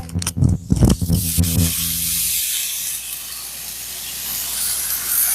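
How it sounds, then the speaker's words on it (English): Loud, steady hissing sizzle of mushrooms in a hot pan, rising slightly toward the end, after a few brief clanks at the start. "And when I say sizzle,"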